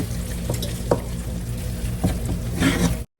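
Turkey and beans tossed in a hot skillet after liquid is added, giving a steady close sizzle and frying hiss with a few clattering stirs, no talk, cutting off abruptly at the end.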